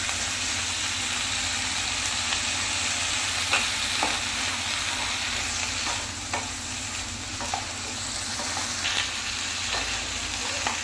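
Broccoli with spring onion stalks sizzles in a frying pan, a loud continuous hiss close up with repeated scrapes and taps of a stirring spoon, sustained for several seconds without any talking.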